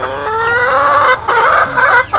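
Rhode Island chickens cluck loudly and close by, a few drawn-out, harmonic calls in quick succession with brief pauses between them.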